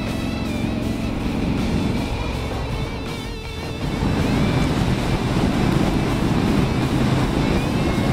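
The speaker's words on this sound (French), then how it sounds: "je prends du vent plein la gueule" Wind roars against the rider on a Triumph 900 Street Scrambler motorcycle, a loud, continuous rushing blast that carries the engine's steady drone beneath it and grows heavier partway through.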